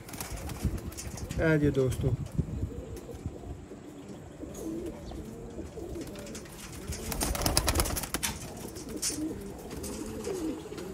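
Sialkoti pigeons coo steadily in a loft, a low rolling murmur from several birds close by, while someone speaks briefly over them partway through.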